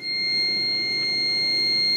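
A CCTV recorder alarm set off by a PIR sensor, a steady high-pitched electronic warning tone sounding continuously and fairly loud with no voices.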